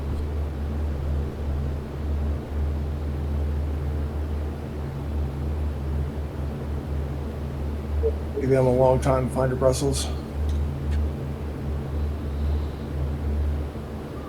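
Warplane engine cruising in the IL-2 flight sim video game, carrying 3,000 pounds of ordnance, a constant low droning hum throughout with a short burst of radio chatter over it.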